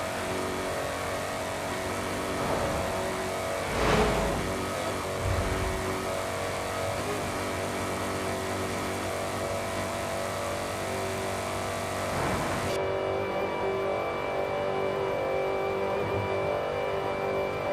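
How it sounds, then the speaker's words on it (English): Supercharged Lamborghini Urus in Forza Horizon 5, its engine droning steadily at a sustained rev with a couple of brief surges, heard alone without voices for the whole stretch. "Supercharger sounds so good."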